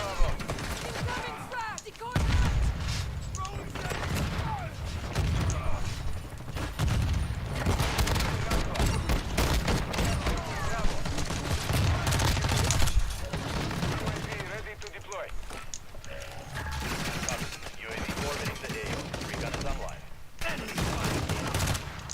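Shotgun and other gunfire in the video game Warzone 2, repeated heavy blasts and bursts continuing steadily through the whole stretch, loud and dense, with a voice speaking over the shooting at times.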